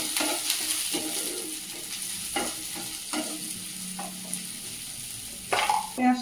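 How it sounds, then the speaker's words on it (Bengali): Chopped onions fry with ginger and garlic in a pan while fish curry is being cooked, giving a steady sizzle broken by repeated scraping stirs and a louder clatter near the end. "পেঁয়াজটা ভাজা ভাজা হয়ে গেছে"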